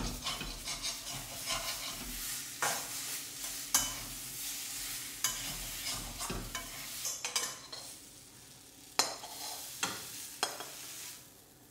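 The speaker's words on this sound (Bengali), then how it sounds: "এইভাবে যতক্ষণ ডালের কাঁচা গন্ধটা যাচ্ছে ততক্ষণ ভাজবে" Lentil dal filling for stuffed pointed gourd dolma being stir-fried in a pan, close soft sizzling broken by repeated sharp scrapes and knocks of a spatula, no voices.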